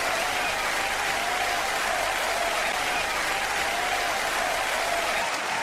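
Dense, sustained applause from a huge audience at the 1996 Eurovision Song Contest in Oslo, Norway, a steady roar of clapping and crowd noise that fills the whole stretch without pause.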